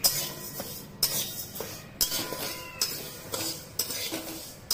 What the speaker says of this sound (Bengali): ডালটা একদম গ্যাস কমিয়ে দিয়ে ভালো করে ভাজতে লাগবে।